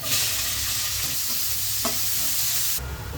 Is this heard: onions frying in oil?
yes